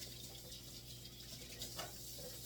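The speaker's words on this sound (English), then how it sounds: "I'm just gonna rinse this off" Hot tap water runs steadily over a glass canning jar being rinsed at a sink, a continuous hiss with faint clinks, close and alone with no talking.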